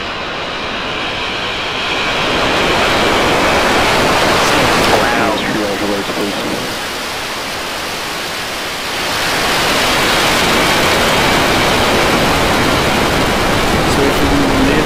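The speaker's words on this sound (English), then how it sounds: "We have liftoff." A SpaceX Starship SN10 rocket lifts off in Boca Chica with a loud, sustained broadband roar that swells, dips briefly, then surges again.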